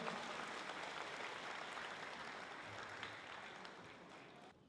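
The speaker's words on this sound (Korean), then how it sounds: "다시 한번 감사의 박수 부탁드립니다." An audience at a national elders' church gathering gives warm applause, a dense loud clapping that continues steadily before fading at the end.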